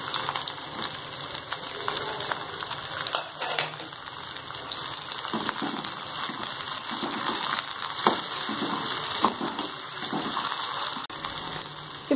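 Shallots and curry leaves fry in hot oil with mustard seeds, giving a steady, close sizzle with scattered crackles and pops throughout and no talk.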